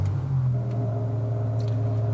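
A BMW M5 engine starting up with a grinding noise, heard close as a steady low droning hum with layered tonal overtones and a slight rise near the start.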